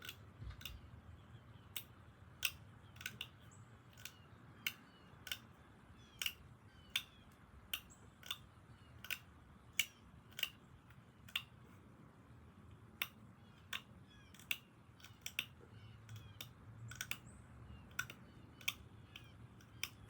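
Flintknapping along the edge of a Hillsboro point made of pinhead coral, with sharp, close, evenly spaced clicks and snaps as small flakes are pressed off, over a faint low background hum.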